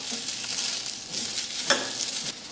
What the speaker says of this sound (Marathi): सुरुवातीला कढईमध्ये हा कांदा घालायचा आहे. तर आधी सुक्काच आपण थोडासा परतून घेऊया